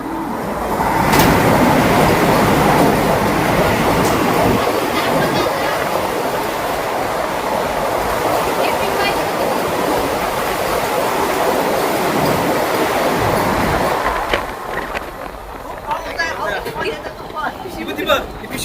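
A Vande Bharat express rushes through Dahisar station at high speed in rainy weather, a loud sustained roar and rattle of wheels close by that cuts off sharply near the end, with a person talking over it.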